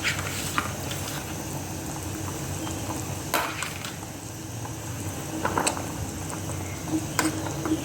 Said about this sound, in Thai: อันนี้เคี่ยวนะ